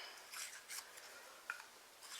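Scissors snip a small paper tab off a punched paper cut-out, giving a few quick, faint cuts and rustles close by.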